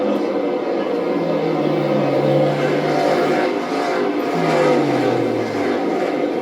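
NASCAR Cup Series stock cars race on track during the All-Star Open, with engines roaring and pitch sweeping downward as cars pass. A steady, loud drone runs throughout, with a commentator speaking faintly underneath.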